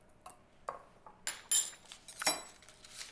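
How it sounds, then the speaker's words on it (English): A spoon stirs mustard into caramelized onions, garlic and beans in a pan, giving a few soft scrapes and light clinks of utensil on cookware, close and fairly quiet with no talking. "Into our beautiful caramelized onions and garlic and beans, I'm going to stir a little bit of mustard"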